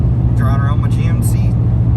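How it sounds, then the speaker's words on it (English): A GMC 2500HD truck drives through snow, its engine a steady low rumble heard from inside the cab while a voice talks over it. "Driving around my GMC."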